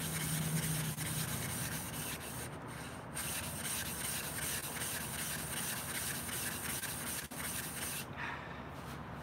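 A cheap sharpening stone is rubbed flat, giving continuous gritty scraping and rasping with steady loudness throughout and no talking.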